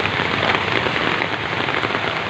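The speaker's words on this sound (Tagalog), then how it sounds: "Lakas ng ulan ah." Heavy rain pours down steadily on a surface with a dense, even hiss, loud and close throughout, with no voices heard.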